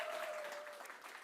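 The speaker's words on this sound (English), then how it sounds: "So one more round of applause for Kamilę." Audience at a design conference and awards ceremony giving a short burst of applause, soft and somewhat distant, fading slightly toward the end with a faint steady tone running underneath.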